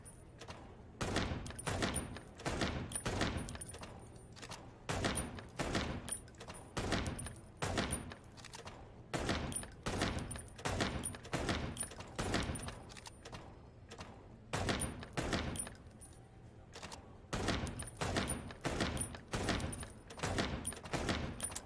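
Rapid, repeated gunshots from the zombie survival video game 7 Days to Die crack out in steady bursts with short pauses, loud and close over a low background hum.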